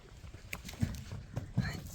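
Hooves of a young foal from a Polish horse crossed with a Karabair clip-clop as it is walked, a few soft, distinct strikes at a steady pace, quiet and close, with faint outdoor background.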